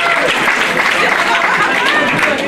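Wedding guests clap and cheer loudly and continuously, a dense wash of applause from many people filling the whole moment.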